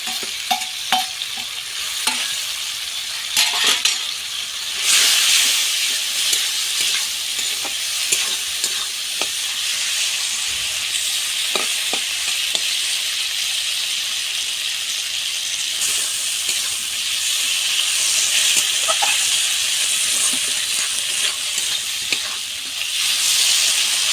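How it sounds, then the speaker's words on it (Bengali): Masala with fried ridge gourd and pumpkin is stirred and sautéed in a hot pan: a loud, continuous sizzle with periodic scraping surges from the spatula, close up and alone. "এখন আমি ভেজে রাখা ঝিঙ্গা আর মিষ্টি কুমড়ো দিয়ে দেবো আর একটু কষায় না"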